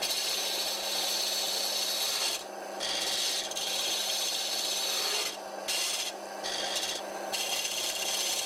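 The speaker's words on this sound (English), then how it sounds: "So now I'm going to turn down both sides of the hammerhead" On a wood lathe, a tool scrapes and rasps against a spinning wooden hammerhead as it is turned down, a steady rough hiss broken by several short pauses, close and without speech.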